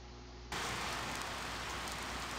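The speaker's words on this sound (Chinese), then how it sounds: "你这下大雨应该有水吧？ 下大雨没水。" Heavy rain in the sailing video game Uncharted Waters 4, a dense hiss of downpour that switches on abruptly and then holds steady and loud, with no voices.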